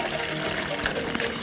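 About 3/4 cup of water pours steadily into a cooking pot with chicken in a short close splash, with a couple of brief clinks near the end.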